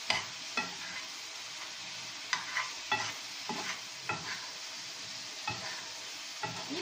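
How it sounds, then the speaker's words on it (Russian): Zucchini frying in a pan is stirred repeatedly, giving irregular scraping clatters every second or so over a steady soft sizzle, with no voices. "вот теперь перемешиваем еще раз"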